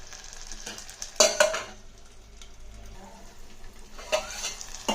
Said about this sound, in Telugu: ఇప్పుడు ఇలా కలిపేసి మూత పెడతాను